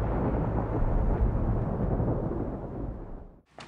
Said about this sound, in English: they found a real thunderstorm to drive into, which is spectacular and completely unpredictable